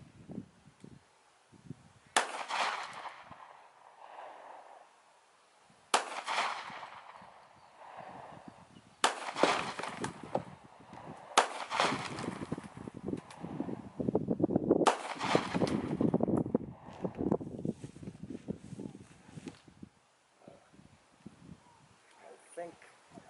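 Several sharp .40 S&W gunshots with 180-grain rounds fired into a concrete block outdoors, loud cracks spaced a few seconds apart with fragments and rustle between, and people talking through the later part.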